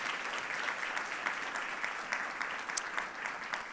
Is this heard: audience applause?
yes